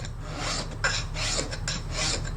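A metal file works the edge of a sterling silver ring, giving close, rhythmic rasping strokes back and forth, several in quick succession against a low steady background hum.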